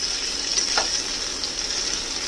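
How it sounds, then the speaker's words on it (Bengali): Okra frying in a pan with oil and no salt gives a steady, soft sizzle that holds evenly throughout, close and moderately loud with no talking. "ভেন্ডিটা হালকা করে ভাজা হয়ে গেছে"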